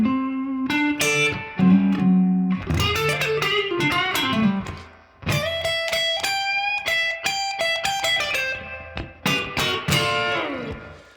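Slow blues lick on an electric guitar with a slightly overdriven tone: bent and sustained notes mixed with quick flurries, ringing and decaying between phrases, close and fairly loud with no talking.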